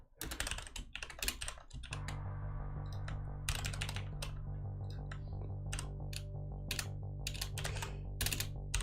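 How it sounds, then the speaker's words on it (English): Rapid clattering keystrokes on a computer keyboard come in irregular bursts over a steady low electronic hum, close and fairly loud with no talking. "I'm just typing."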